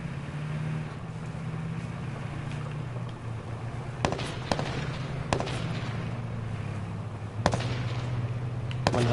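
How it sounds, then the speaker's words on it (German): Gunfire in the battle royale game H1Z1, a few sharp scattered shots, mostly at a distance, over a steady low engine-like drone. "Man hat mich unter Beschuss"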